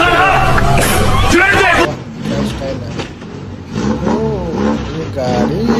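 A car revving and driving past a crowd, the engine loud and rising up front, then easing back as excited voices of onlookers chatter and cheer over it.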